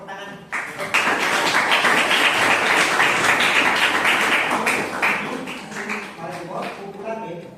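Applause from a classroom group of teachers during a coaching session for academic supervision, a dense burst of clapping that swells in and then thins out, with voices talking over it.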